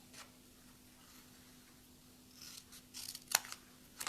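Scissors snipping through paper while crafting a mini album, a few close crisp cuts near the end after a quiet stretch with a faint steady hum.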